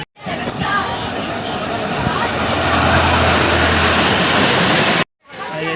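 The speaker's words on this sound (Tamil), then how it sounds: "ட்ரெயின் பின்னாடி போகுது பாருங்க" Loud, steady rumble of an Indian train rolling along the tracks near Palakkad Junction, with rattling and clatter filling the clip before it cuts out briefly near the end.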